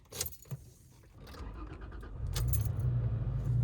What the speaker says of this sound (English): the starter sounds solid. It has a beautiful note on the exhaust.